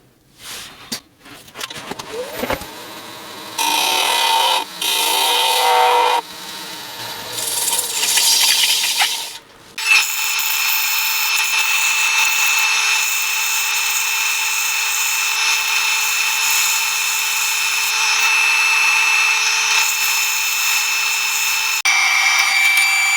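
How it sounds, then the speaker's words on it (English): A woodturning tool tapers the rim of a green wood bowl spinning on a lathe, with scraping and cutting bursts followed by a steady, loud, high whine from the turning piece, close up with no talk. "I'm going to taper this rim just down a bit"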